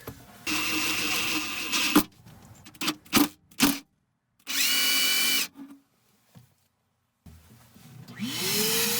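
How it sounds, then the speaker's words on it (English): A power drill whines in several bursts as it drills through metal, some long and some short, with brief silences between them, close and fairly loud. "every time you drill a hole through something"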